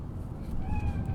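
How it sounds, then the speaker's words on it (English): A cat meows in the video game Cyberpunk 2077, one short, clear, rising meow that comes in partway through over a steady low ambient hum. "It's just a cat."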